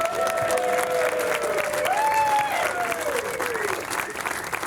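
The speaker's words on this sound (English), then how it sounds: "So the band is going to give you a round of applause." A municipal band's season-finale concert fills with steady, broad applause from a crowd, continuous for several seconds, while brass-like sustained tones linger through the clapping.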